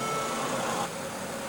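The 3.5 L V6 of a 2016 Mercedes-Benz GLE idles with a steady, fairly quiet hum, and the tone shifts slightly partway through.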